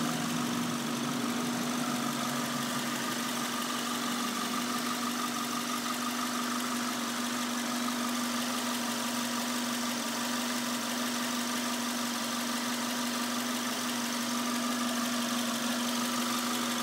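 A 2005 Mitsubishi Galant SE's 2.4-liter 16-valve four-cylinder engine idles steadily with the hood open, a constant close hum and light mechanical chatter running unbroken throughout with no talking.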